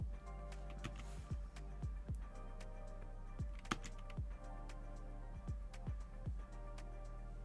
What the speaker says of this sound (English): I'm sorry if the keyboard is actually really loud.